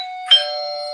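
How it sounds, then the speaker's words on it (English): A doorbell rings once, loud and close, and its bright chime tones linger and fade in an otherwise quiet room. "You hear that? That's the doorbell, Jizzy."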